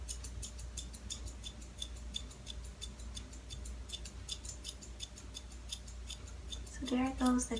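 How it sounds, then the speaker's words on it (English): Scissors snip rapidly in a close run of crisp clicks while point cutting hair, a steady rhythmic series of faint cuts, with a voice speaking briefly near the end. "See how when I point cut it, it makes the ends a lot more movement?"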